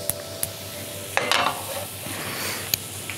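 Onions cooking slowly over a low flame in a pan, a soft steady sizzle with a few light clinks and a brief stirring scrape, close and quiet, no talking.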